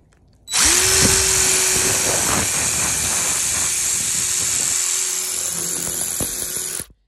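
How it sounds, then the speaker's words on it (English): An impact drill starts up and runs loudly for several seconds drilling into brick, with a high grinding whine and rattling impacts, then stops abruptly. "let's give it a try and see how well this impact drill works"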